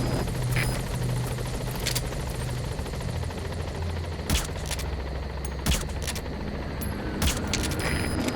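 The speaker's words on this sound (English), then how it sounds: "Support helicopter has arrived." A support helicopter in Metal Gear Solid V hovers at a landing zone, its steady loud rotor thrum filling the scene, with sharp intermittent bangs like gunfire breaking through.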